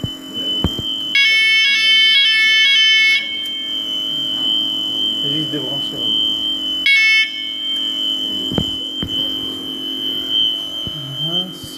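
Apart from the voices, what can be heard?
parking alarm siren sounding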